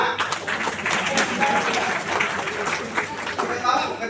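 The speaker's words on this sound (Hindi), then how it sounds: "जो चाहिए उसके लिए ताली बजाना।" Audience clapping at a motivational talk, a dense burst of applause mixed with scattered crowd voices, holding steady before easing at the end.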